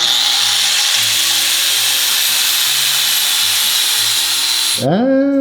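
An angle grinder works on a Grom motorcycle during a 300cc engine swap, giving off a steady, loud, high-pitched whine for about five seconds before cutting off abruptly.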